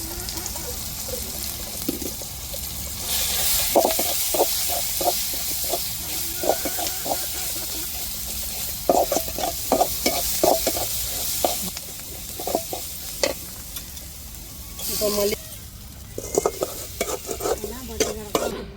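A masala of cumin, pepper, curry and chili powders with ginger garlic sautéing in a pan for a fish dish, steady frying hiss broken by rhythmic scraping strokes and bursts of louder sizzle, close by with no speech.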